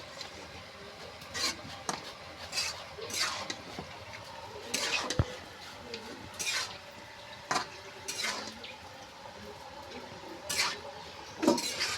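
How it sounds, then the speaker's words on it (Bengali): Beef and taro stirred and fried in a pot, a faint run of intermittent scraping and clinking of a spoon against the pot with a soft sizzle beneath, repeating every second or so. "সুন্দর করে কষে নেবো মাংসটা।"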